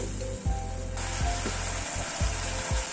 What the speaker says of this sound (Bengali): রসুনের ফ্লেভারটা যাতে ভালো মতো মাছের ঝোলের মধ্যে আসে, সেই জন্য কিন্তু তেলের উপরে রসুনটাকে ফোড়ন দিলাম